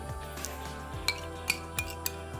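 Tofu is stirred in a mayonnaise mixture with a utensil, giving a quiet scraping and a few sharp clinks against a bowl at irregular intervals over a low steady hum.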